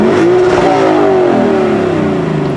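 A Lexus LC 500 Convertible engine in Sport Plus mode revs hard to the redline and holds at high revs, its loud exhaust roaring steadily throughout with no talking.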